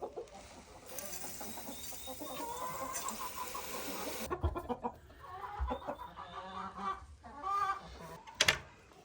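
Hens and other fowl in a farm coop cluck and squawk in irregular bursts, close and moderately loud, with busy rustling and a sharp honk-like call near the end.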